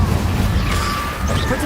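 A fire spell is cast in the video game Hogwarts Legacy, giving a dense, loud burst of crackling, whooshing noise that fills the whole moment with steady intensity.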